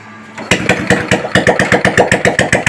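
A Hero Glamour motorcycle fires up on the kick starter and settles into a loud, close, rhythmic idle with evenly spaced exhaust pulses.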